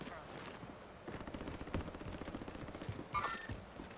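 Bursts of rapid gunfire crackle through a squad-based shooter match, fairly faint and scattered across the moment, with a sharper burst near the end while players talk over the action.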